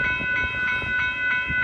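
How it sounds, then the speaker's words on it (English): An Amtrak San Joaquin passenger train led by a Siemens Charger locomotive passes at Bayfront Park in Pinole, California, its loud sustained horn chord sounding over low rail rumble. "here comes Amtrak San Joaquin train 713 going to the Oakland Jet London Square, Oakland"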